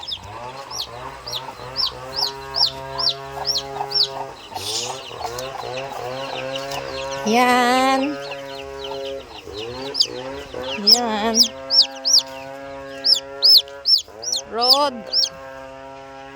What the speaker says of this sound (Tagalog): Sisiw ng Rhode Island red chicken.